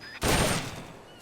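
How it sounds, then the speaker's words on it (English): Gunfire during shooting practice in Metal Gear Solid Peace Walker, a single loud sharp shot bursting after a short quiet lead-in and decaying quickly with a brief ringing tail. "Ready your weapon with the aim button, then press the attack button to fire."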